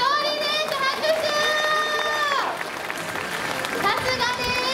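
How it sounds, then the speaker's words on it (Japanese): Crowd applause at a baseball mascot day event in a stadium, spread and steady, with children's voices and a high tonal sound drifting over the clapping. "拍手"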